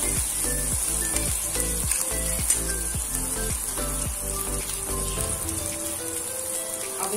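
Finely chopped onion sautés in a pan, giving a steady, even sizzle and crackle like light rain, with faint clicks of a utensil in the first half.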